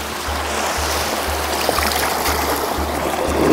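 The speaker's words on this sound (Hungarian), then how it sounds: "Először én megmosom az arcom." Splashing and trickling of flowing Danube river water as someone washes their face, a continuous rushing stream close by with a steady low rhythmic thumping underneath.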